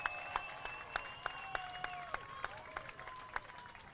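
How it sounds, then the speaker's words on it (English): Crowd applause for the women's finalists at a Lakeside Surf wave-pool surf competition: steady clapping with sharp individual claps punctuating it, heard over a background with tonal whistle-like sounds gliding throughout. "One more round of applause for our female competitors."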